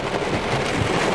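Heavy downpour of rain in Florida, a steady, dense roar of drops hitting surfaces, loud and close throughout the short stretch with no voices.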